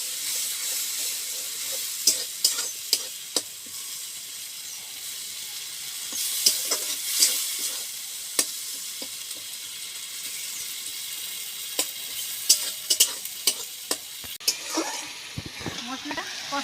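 Ground spice paste frying with browned onion and tomato in a pan for a cauliflower and katla fish curry, a steady bright sizzle broken by sharp scraping stirs, with a few louder clatters near the end.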